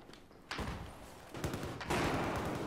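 Gunfire in the shooter Battlefield 4, two sharp bursts breaking in over a rumbling battlefield backdrop, moderately loud and somewhat distant, with no talking.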